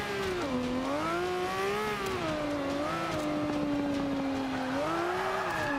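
Engine of a race car in the Forza 5 video game revving hard at full throttle, its loud pitch climbing and dipping with gear and throttle changes, close and continuous with no talking.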